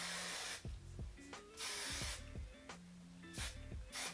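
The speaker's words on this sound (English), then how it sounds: "I'm gonna hit it with the hairspray and move on to the next." Hairspray hisses from an aerosol can onto freshly curled hair in several short bursts and one longer spray, close and fairly loud, with faint clicks and handling sounds between them.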